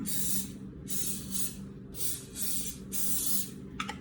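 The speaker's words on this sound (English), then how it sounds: "We're gonna spray them down with a little butter across the top." Five short bursts of butter-flavored cooking spray hiss in a steady rhythm over zucchini boats, each about half a second long, close and crisp, ending with a faint click.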